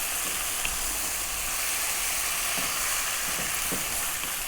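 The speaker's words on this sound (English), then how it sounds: "We're going to give that a little mix." Turmeric, cumin, coriander, chili powder and tomatoes for an eggplant tomato curry sizzling in a hot pan, a steady close frying hiss throughout with a few faint stirring knocks and no voices.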